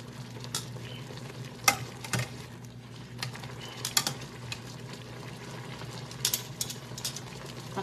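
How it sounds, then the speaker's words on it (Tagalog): Scrambled eggs frying in a pan in a home kitchen, a soft steady sizzle with occasional scraping and stirring clicks from a utensil, fairly quiet and without voices. "Mag-scramble egg ako."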